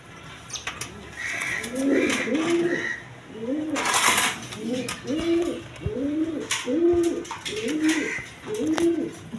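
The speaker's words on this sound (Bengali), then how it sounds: "বিগ সাইজের কবুতর, দেখেন" Pigeons coo in a steady repeating pattern of soft, throaty phrases, close by, with a brief burst of rustling noise partway through.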